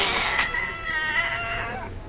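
A cat's drawn-out meow rises and wavers over about two seconds, fairly clear against light background noise, with no one talking over it.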